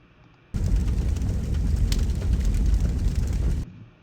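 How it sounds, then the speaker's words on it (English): A fire-burning sound effect played back in Unity, meant for a sun in a solar system game: steady, dense crackling roar that starts abruptly, holds at an even loudness for about three seconds, then cuts off. "So that sounds like a fire, which would be a great sound effect for our sun"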